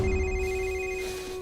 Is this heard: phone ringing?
yes